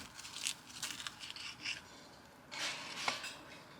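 A knife slicing through a grilled black bean patty on a board, several soft scraping cuts in quick succession with a brief pause, then a couple more close strokes.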